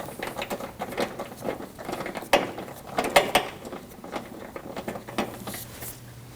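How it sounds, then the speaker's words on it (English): A ratchet clicks in quick uneven bursts as it tightens the bolts on the windshield washer reservoir of a 2016-2023 Honda Pilot, with close metallic ticking and a few sharper knocks. "I'm going to get both of the bolts started in before I tighten them down"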